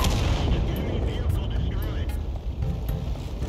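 Vehicle-destroyed explosion in the World of Tanks video game: loud booming blasts and rumbling gunfire fill the short stretch, with a brief crackling burst near the middle and a voice heard over the noise.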